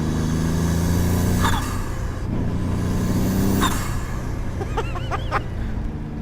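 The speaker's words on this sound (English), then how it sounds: "all these massive chatters and fizzes from the wastegate as it opens and closes and dumps boost" A 1.0-litre EcoBoost Formula Ford race car engine drones steadily while sharp chattering bursts and fizzy hisses from the turbo wastegate dumping boost pop out a few times.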